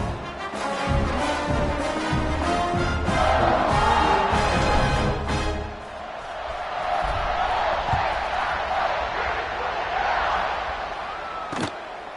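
Football stadium crowd before kickoff of the Ohio State vs Ole Miss game, a loud, sustained roar with cheering and whoops that dips slightly then swells again, heard from within the stands.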